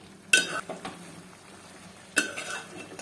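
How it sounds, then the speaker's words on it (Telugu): Turmeric being stirred into a village-style country chicken curry in a pot: two sharp clanks of a spoon against the metal pot, each followed by a brief scraping stir over a soft background sizzle. "పసుపు బాగా కలబెట్టి మూత పెట్టేసుకోండి."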